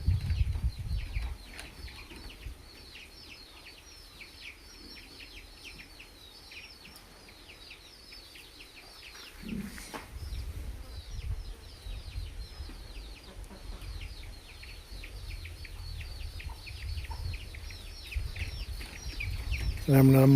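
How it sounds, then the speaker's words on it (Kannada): Pure country chickens cluck on a farm, a faint continuous chatter of many hens, with low background rumble and occasional voices throughout. "ನಮ್ಮ ಫಾರ್ಮಲ್ಲಿ ಪ್ಯೂರ್ ನಾಟಿ ಕೋಳಿಗಳು"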